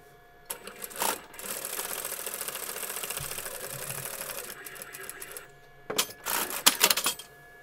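A sewing machine stitches a fabric origami pouch in one steady, close run of a few seconds, flanked by short handling clatters and faint room noise.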